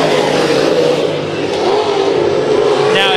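Race cars at Bakersfield Speedway during heat races, engines droning and revving together down the straightaway, a loud steady mid-pitched roar throughout with a brief rise near the end.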